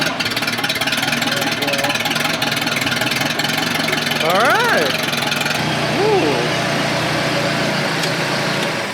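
A pontoon boat engine idles with a steady low rumble throughout, while people talk briefly over it and exclaim.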